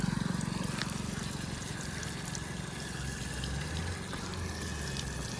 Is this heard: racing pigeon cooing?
no